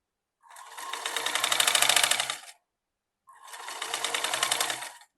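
A sewing machine stitches a strap onto a kurti in two steady runs of a couple of seconds each, separated by a short pause. The whirring is close and clear, with no talking over it.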